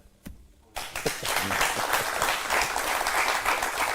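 A lecture audience breaks into dense, continuous applause after a brief quiet moment, with many hands clapping at once and holding steady at full strength to the end.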